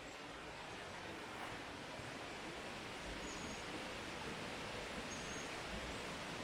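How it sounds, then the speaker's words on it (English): Buttermilk Falls in Rockport, Pennsylvania: a steady, broadband rush of falling water, constant and unbroken, heard from a moderate distance with no other sounds standing out. "I'm just enjoying the sound of the water and nature"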